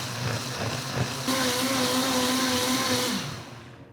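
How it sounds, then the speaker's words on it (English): A blender blending pandan leaves whirs into a steady high-pitched drone after a brief rougher start, running loud and close before winding down at the end. "Next we blend."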